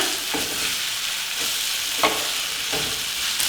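Steamed cluster beans are stirred and scraped around a frying pan. Repeated spatula strokes sound over a continuous soft sizzle with no talking.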